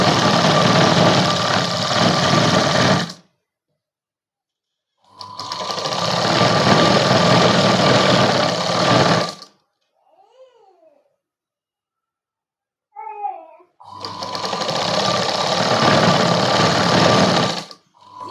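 A sewing machine runs in three long bursts while stitching a fabric hair bow, its steady motor whirr loud and close, with short quiet gaps between runs and faint small clicks.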